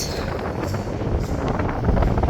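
Steady wind buffets the mast of a sailboat, a close, continuous rushing roar with gusty swells and faint rustling, heard alone without speech.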